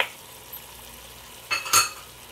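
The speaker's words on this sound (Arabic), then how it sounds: "أحركها شوي وأطفي الغاز." Syrian purslane (burani) dish with garlic and coriander being stirred in a pan on a gas stove, a couple of quick clinks and scrapes of the utensil over a faint sizzle, close and brief.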